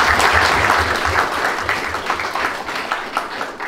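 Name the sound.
applause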